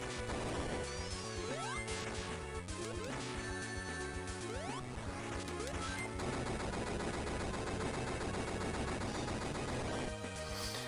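Boss missile barrage in the Sonic Advance video game, a dense run of rapid gunfire-like bursts and crashing impacts layered over looping game music for the full stretch.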